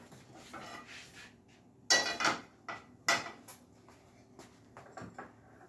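A pan is set down on a stove burner over a low flame in a school kitchen, giving two sharp metallic clanks among scattered softer knocks and clatter, with no talking.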